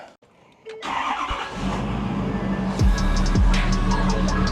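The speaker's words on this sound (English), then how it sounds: "we'll go around and start the truck" A Ford F250 truck's engine cranks and catches after a short pause, then settles into a loud, steady idle with a low rumble and a brief rev up close.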